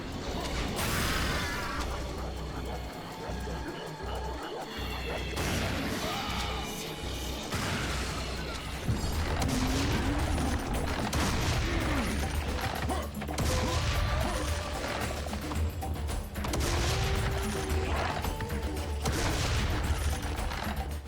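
The oversized super shotgun in the Serious Sam video game fires again and again through dense, loud combat, with booming blasts, crashes and mechanical clatter layered over a game soundtrack for the full duration.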